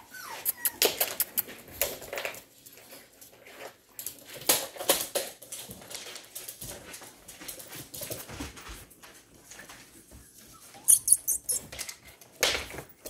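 A puppy whimpers and scrabbles nearby in a series of short, irregular squeaks and scratchy patters, with a few sharper high cries near the end and no talking.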